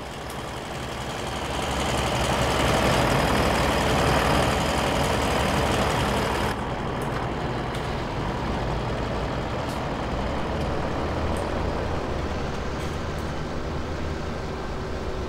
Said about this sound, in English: It's a lovely John Deere, this thing. Beautiful tractor.